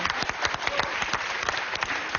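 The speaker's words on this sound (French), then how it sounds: "On l'applaudit avec toute son équipe." A burst of dense, steady applause from a TV game show studio audience, many hands clapping together loudly with no voices standing out.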